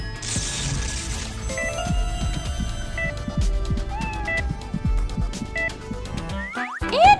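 A kitten meows repeatedly over a busy backdrop of boings, squishes and cartoonish effects, with a sharper cry near the end; no speech.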